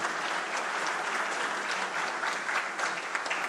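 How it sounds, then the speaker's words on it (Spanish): Audience applause at the closing of a national congress on access to justice, a continuous, even round of many people clapping in a hall, moderately loud and sustained throughout. "Un fuerte aplauso, por favor."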